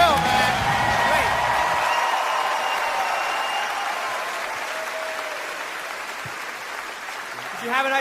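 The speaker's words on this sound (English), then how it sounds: "Bill Burr, a round of applause for Bill" Loud audience applause with cheers and whoops for comedian Bill Burr at a live stand-up show, sustained throughout, with voices faintly mixed in near the start.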